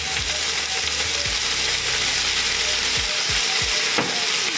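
Coconut aminos sizzle in a heating pan, a steady bright hiss broken by a few soft knocks and clinks of cookware, with no talking.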